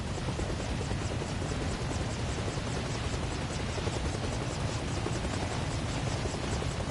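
A helicopter rotor spins up in the video game Arma Reforger, a loud, close, continuous whine and chop with fast regular blade pulses, steady throughout with no voices.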